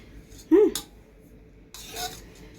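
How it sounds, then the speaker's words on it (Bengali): A spoon stirs a chocolate dessert mixture made with condensed milk, clinking against the bowl in two short bursts about a second apart, with quiet pauses between. "এবার এটাকে ভালো করে মিশিয়ে নিচ্ছি"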